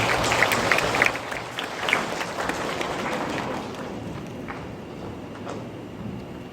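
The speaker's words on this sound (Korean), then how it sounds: "그러면 박수로 맞이해 주시기 바랍니다" An audience claps to welcome student presenters at a school admission briefing, a broad, dense round of applause that is strongest at first and slowly thins and fades.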